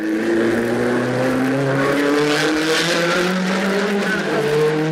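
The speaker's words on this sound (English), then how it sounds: "Practice laps are in progress to determine starting positions for the race tomorrow." Grand Prix race cars lapping during practice the day before the race, engines droning loudly and continuously with rising and falling pitch as cars pass, a steady roar throughout.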